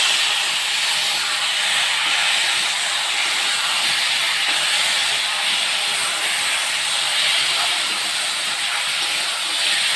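Water poured into a pan of hot fish curry with potato and eggplant gives a loud, steady hiss of steam that holds evenly for the full ten seconds, with no speech.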